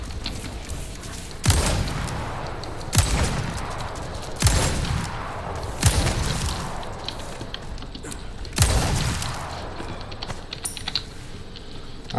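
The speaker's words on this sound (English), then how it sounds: "so I'm going to use my hand cannon." In Resident Evil 4 Remake, a hand cannon fires five loud, booming shots spaced about one and a half seconds apart, each leaving a rumbling tail, with faint game ambience between them.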